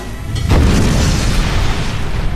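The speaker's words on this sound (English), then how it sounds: "Their invention went from bong to bomb, turning the clay into deadly shards of shrapnel." A makeshift propane-fired clay kiln explodes: a loud, sudden close boom that bursts in after a brief rumble, followed by a sustained heavy roar lasting a couple of seconds, with no voices.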